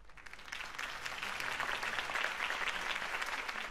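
Video game crowd applause in Batman: The Telltale Series, a dense, even wash of clapping that holds at a constant level with no voices standing out.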